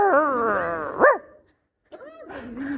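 A ventriloquist imitates a dog with close, whiny bark-like yelps and rising whimpers, then pauses briefly before a second softer round of the imitation.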